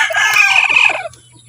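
A brooding hen sitting on a clutch of eggs gives a loud, close, drawn-out clucking call lasting about a second, then falls quiet.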